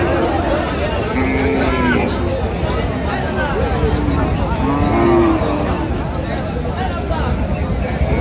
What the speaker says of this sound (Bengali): বেশ শুকনো হাড্ডিসার গাভী।